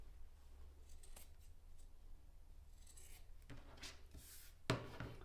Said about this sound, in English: Just cut those corners off.